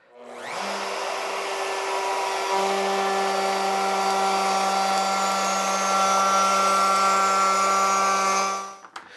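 A power saw whines steadily as it cuts a groove into wood door pieces, a continuous loud, close tone with no voices, spinning down at the end.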